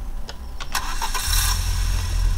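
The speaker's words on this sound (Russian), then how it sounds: "Вот завели мотор." A VAZ car's engine is started: a few clicking cranking bursts, then the motor catches and settles into a low, rumbling idle, close to the microphone with no talk.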